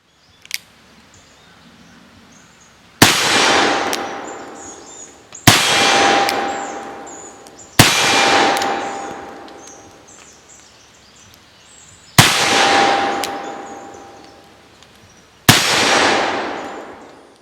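Five sharp shots from a Pietta 1861 Navy black powder revolver ring out at a range, each a loud bang followed by a long, decaying metallic clang of steel, spaced a couple of seconds apart.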